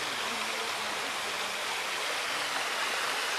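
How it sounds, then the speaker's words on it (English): Water runs steadily through a small garden waterfall, a close, continuous broadband rush and splash with no pauses or voices. "You can hear the water running through this small waterfall."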